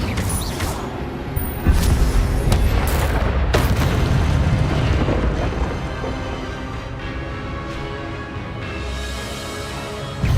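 Booming fire-spell blasts from Incendio in Hogwarts Legacy burst out repeatedly, loud and close, with sharp cracks at the start and a rumbling roar that slowly settles into a sustained rushing noise.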